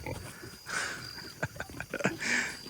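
A pig of about 35 to 40 pounds being caught on a farm squeals in several short, shrill bursts, separated by scuffling and thumps at close range.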